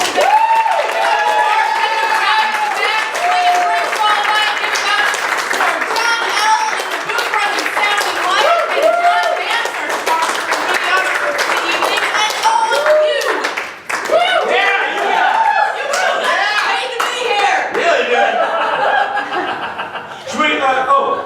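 A comedy show audience at the Circa 21 Speakeasy claps and laughs in continuous mixed applause and chuckling, crowd noise filling the room while a host talks over it.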